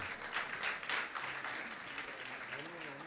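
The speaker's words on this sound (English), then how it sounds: "Good round of applause." A crowd at a World Tuberculosis Day event claps for tuberculosis survivors, a dense, moderately distant patter of applause under a murmur of voices and a faint background tone.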